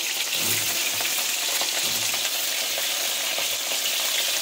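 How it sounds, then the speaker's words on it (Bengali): Pointed gourd (potol) frying in hot oil in a wok gives a steady, close sizzle that stays even throughout, with faint soft stirring knocks underneath. "চলুন এবার কড়াইতে আমি তেল দিয়েছি, দিয়ে কিন্তু আমি পটলগুলোকে সুন্দরভাবে ভেজে নেবো"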